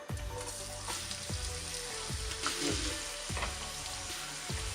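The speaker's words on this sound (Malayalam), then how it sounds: "ഇതിനി നമുക്ക് ഈ എണ്ണ വറുത്ത് കോരാം" Chopped ginger, about a cupful, frying in oil for a Kerala ginger curry (inchi curry): a steady close sizzle with regular scraping stirs of a spatula through the pan, no voices.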